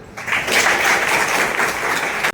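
A school audience applauds at a SVEEP team visit to Gandhi Vidyalaya, Bhandara, a steady, close round of clapping lasting a couple of seconds before stopping abruptly.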